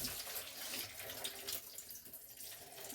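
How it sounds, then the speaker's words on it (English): Tap water runs steadily into a strainer, rinsing oil off cooked spaghetti in a sink, a continuous close hiss and splash with no talking. "We're just rinsing that oil off because we don't want the oil on our dehydrated spaghetti."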